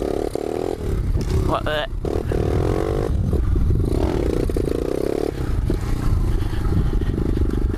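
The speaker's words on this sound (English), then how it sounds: "I think you gotta go slow in second and then pop the clutch" A pit bike engine revs and pulls away after the clutch is popped in second gear, loud and close with clattering, rising pitch and shifting revs; a voice speaks briefly near the start.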